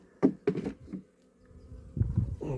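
Honey bees hum around hives at an Irish apiary, a faint steady buzz with a few louder passes of insects close by.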